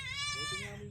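A goat at a farm gives one short, wavering bleat up close, plainly heard and lasting under a second.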